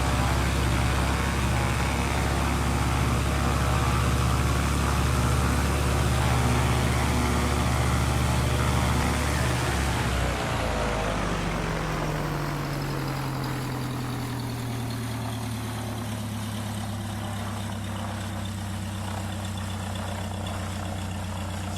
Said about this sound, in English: The aircraft is a Mooney